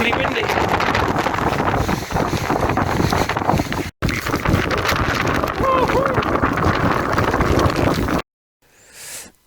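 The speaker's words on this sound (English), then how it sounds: "it's actually just incredibly windy" Strong wind roars and buffets the microphone on a mountain pass before a Lakeland ultra marathon, loud and continuous, briefly cutting out and then dropping to near silence with a faint gust at the end.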